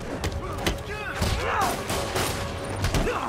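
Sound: explosions and gunfire in Marvel's Spider-Man video game

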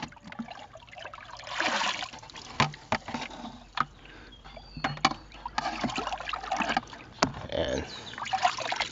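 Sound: water with prawn fry poured from bucket into fishpond

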